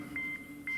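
Telephone dialing tones sound as two short, clear electronic beeps with a brief gap between them, fairly quiet over a low hum.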